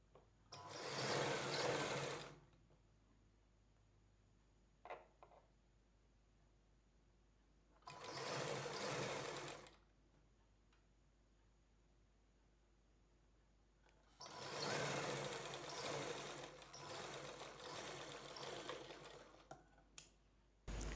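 Sewing machine stitching piping around a round neckline in three loud close bursts of rapid motor whirring, separated by quiet pauses with small handling clicks, no voices.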